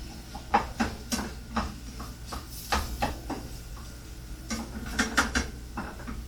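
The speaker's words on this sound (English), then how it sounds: "So I'm going to go ahead and stir that in." Ingredients are stirred in a pan for breakfast, giving scattered scraping clinks and taps of a utensil against the pan, close and uneven, over a low background hum.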